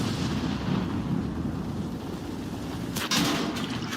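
A tank gun firing in the World of Tanks game: a deep, rumbling boom with a sharp crack near the three-second mark over continuous low battle rumble, no talk.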